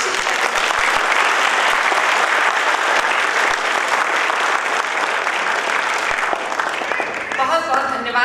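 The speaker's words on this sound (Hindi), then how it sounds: "एक बार तालियां बजाकर मुझे आदेशित करें।" An audience at a Hindi comic poetry gathering claps enthusiastically, steady sustained applause filling the space for several seconds, tapering slightly near the end.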